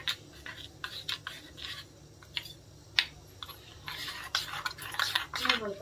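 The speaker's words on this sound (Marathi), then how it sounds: "हे बघा असं कालवून घेतलं मी दहीमध्ये मसाला सगळा" Masala being mixed into curd in a bowl, irregular light scraping and clinking of a spoon against the dish, close and quiet, with faint background murmur.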